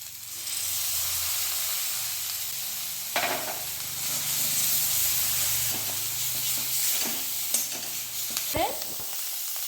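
Leaf paste going into fried cumin for a thin leaf curry, sizzling steadily in the pan with brief scrapes of stirring, fairly close and alone without talk.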